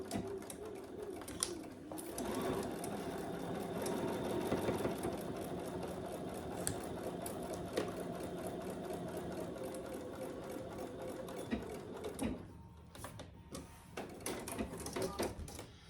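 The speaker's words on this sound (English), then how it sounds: "now we're going to sew that together at the seam allowance in the pattern" Sewing machine running steadily while stitching the seam of a clutch bag, a continuous fairly quiet mechanical whir with faint clicks and a brief pause near the end.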